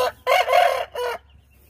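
Chickens on a farm cluck and crow in three quick, loud bursts over about a second, followed by near silence, with no talking.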